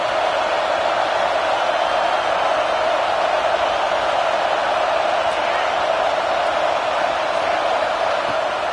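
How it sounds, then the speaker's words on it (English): A dense, steady roar from a stadium crowd at a Florida State versus Utah college football game fills the whole stretch at an even, loud level, with no distinct breaks or individual voices standing out. "this crowd is turning it up a notch"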